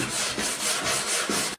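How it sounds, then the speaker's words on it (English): An 80-grit abrasive sands a Lambretta scooter's metal side panel, close rhythmic scratchy strokes in a steady pulse for about a second and a half, then stopping abruptly. "I've gone over the whole panel with 80 grit after using the clean and strip wheel"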